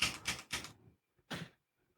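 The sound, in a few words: scratching a foot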